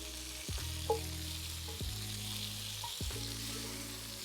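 Shrimp for Cajun shrimp Alfredo frying in a hot pan, giving a steady sizzle punctuated by a few low thumps and clatters as the pieces are tossed, with no talking.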